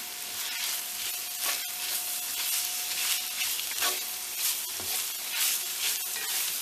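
Ground beef with bell pepper and onion being stirred in a hot pan, a constant sizzle broken by repeated spatula scrapes and knocks against the pan at an uneven rhythm; no talking.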